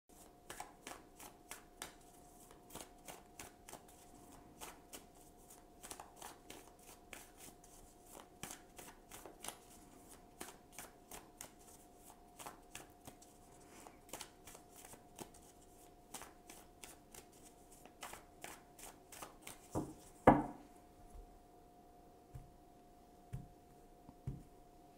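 Oracle and tarot cards being shuffled by hand in a quiet room, with quick, repeated riffling flicks and taps. A louder knock of the deck near the end, and no talking.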